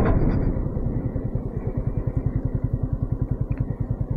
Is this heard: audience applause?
no